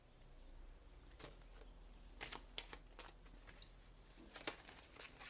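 Tarot cards shuffled quietly, giving soft papery riffles and flicks in short bursts over a faint background hum.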